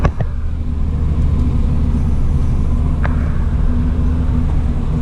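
Subaru WRX running a new tune while driving, a steady low engine drone and road rumble from inside the car, continuous with no talk.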